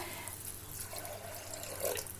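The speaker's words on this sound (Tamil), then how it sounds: "இப்போ அந்த தண்ணியை ரிமூவ் பண்ணிட்டு இப்போ வேற தண்ணி வைக்கிறேன்" Water splashing and pouring from a tap into a pot, a faint, uneven trickle close by with no voices.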